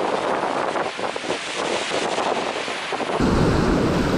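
A strong wind blows at a river mouth during a fishing trip, roaring steadily and buffeting the microphone, loud and close, growing heavier near the end.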